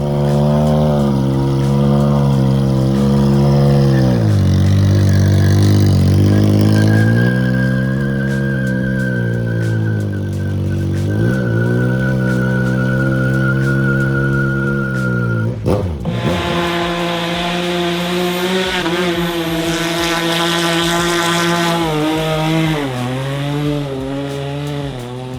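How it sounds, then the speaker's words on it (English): A 400 bhp supercharged Triumph drift motorcycle revs hard and repeatedly, the engine climbing and falling in loud, close, raspy bursts with no talking. "This is a 400 brake horsepower supercharged Triumph"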